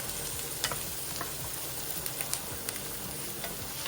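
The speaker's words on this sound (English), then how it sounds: "So we're going to saute the onions until they become translucent" Onions sauté in melting butter in a pan, a constant close sizzle and crackle with small pops and occasional stirring scrapes throughout, with no voices.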